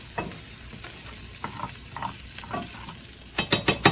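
Chickpeas cook in a cast iron pan, giving a low, steady sizzle broken by soft scrapes and taps, then a quick run of four sharper clicks at the end.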